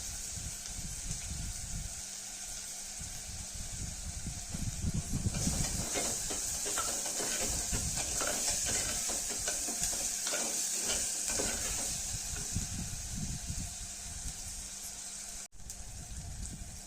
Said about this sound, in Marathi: कांदा आता लाल भाजून झाल्यानंतर टमाटर पण टाकले बघा. टमाटर पण चांगलं भाजून द्यायचं.